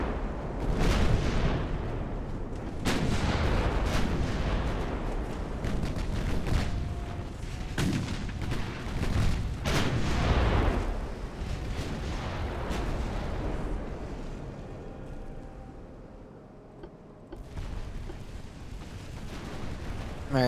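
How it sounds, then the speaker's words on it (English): Naval guns fire from an armed cargo ship in Ultimate Admiral: Dreadnoughts, 1890s era: repeated heavy booms at irregular intervals, loud and rumbling, over a constant sea and engine din with trailing echoes. "Alright, she is firing on us."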